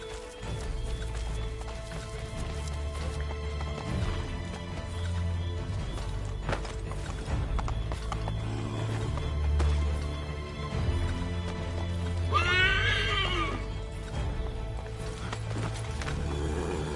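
Hooves clip-clop in a running rhythm over a low rumbling background in the video game Assassin's Creed 3, and a horse whinnies briefly partway through.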